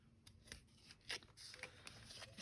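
Scissors snipping through a paper craft tag, a few quiet, close cuts with soft rustling of the paper between them and no voice.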